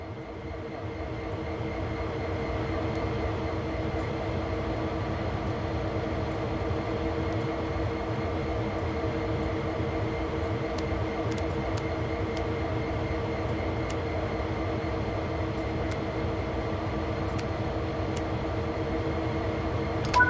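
Metro-North locomotive in Train Sim World 6 idling, a steady droning hum with layered engine tones and faint clicks, loud and unchanging throughout.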